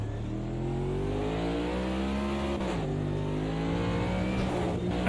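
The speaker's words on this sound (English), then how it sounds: "I double dabbed the throttle in the stupid place." A sim race car in Automobilista 2 revs hard when the throttle is blipped twice, its loud engine tone climbing, dipping briefly, then rising again in a continuous close-up roar with some tire scrub.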